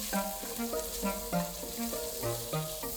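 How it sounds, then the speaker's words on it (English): Pork being stir-fried in a pan, a continuous sizzle behind a melodic background music track with plucked notes, moderately loud and near, with no speech. "First, stir fry the pork."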